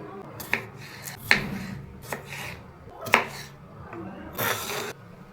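Potatoes are cut into large pieces with a knife on a board in a home kitchen, making a handful of distinct, irregularly spaced chopping knocks close to the microphone.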